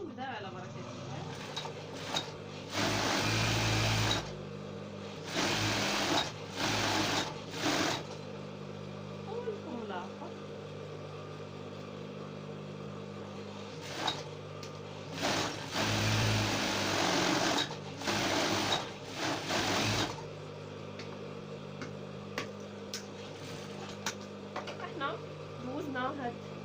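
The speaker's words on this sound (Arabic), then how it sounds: "شعل الماكينه نبدا على بركه الله" A sewing machine stitches a traditional kaftan in rapid whirring bursts of a few seconds each, separated by pauses, close by, with a voice talking quietly between and over the runs.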